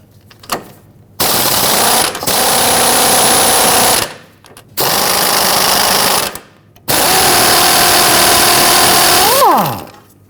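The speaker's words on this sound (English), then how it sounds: "Using an 18 millimeter socket, we're going to loosen our outer tie rod nut." Power tool running on an 18 mm socket to loosen the outer tie rod nut on a 2007-2017 Jeep Patriot: three loud sustained bursts of whirring motor separated by short pauses, the last one winding down in pitch at the end.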